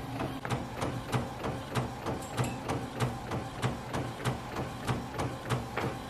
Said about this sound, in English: I sent it to the printer and it is printing out now